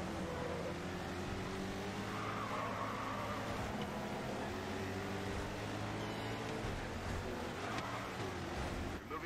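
A race car is driven hard in GRID 2 with a continuous loud engine drone, shifting revs and occasional tire squeal, with no talk.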